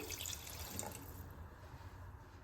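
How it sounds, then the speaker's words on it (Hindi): Water being poured into a pressure cooker for tomato soup, a steady close watery rush that fades to a softer trickle, with no talking. "अब इसके अंदर 2 गिलास पानी डाल दें।"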